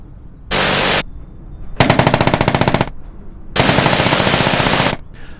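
Shrike 530f helicopter weapon pods firing in Microsoft Flight Simulator: three loud bursts, a half-second steady roar, then a rapid rattling volley of about a dozen shots, then a longer sustained roar, with no talk.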